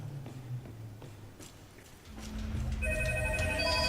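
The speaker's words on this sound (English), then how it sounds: "uh-oh, I'm getting a phone call." Telephone ringtone for an incoming call during a session of the game SINNER: Sacrifice for Redemption, a bright repeating melodic ring that starts partway through over game background noise and continues loud to the end.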